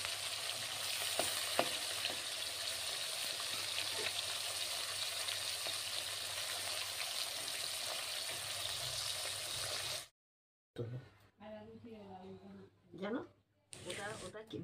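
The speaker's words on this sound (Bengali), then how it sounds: "আর এখন আমি মাছটা ভেজে নিচ্ছি।" Fish frying in a pan gives a steady, dense sizzle for about ten seconds. It cuts off abruptly, and brief talking follows in a quieter room.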